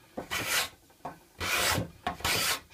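A steel card scraper drawn across a wooden workpiece in three firm strokes, each a dry rasping scrape with brief pauses between, close and clear with no talking.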